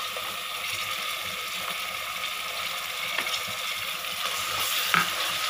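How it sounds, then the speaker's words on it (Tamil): Carrot, capsicum and beans fry in biryani masala inside a pressure cooker, giving a soft continuous sizzle with occasional scrapes and clicks of stirring, slightly louder toward the end. "இப்போ இதை நல்லா ஃப்ரை பண்ணிக்கோங்க."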